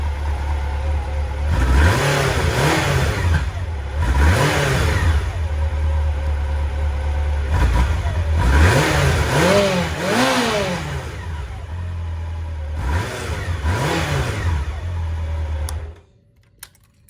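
A Honda CB750 Nighthawk motorcycle engine runs and is revved repeatedly, rising and falling in five or six throttle blips over a steady loud idle before it cuts off abruptly near the end.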